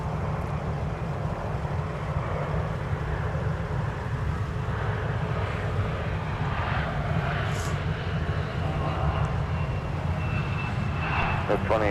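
Steady, loud aircraft engine drone from a plane taxiing slowly at MSP airport in winter, a continuous low roar throughout with a voice talking over it.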